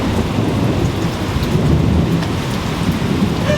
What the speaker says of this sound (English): She doesn't like thunder and lightning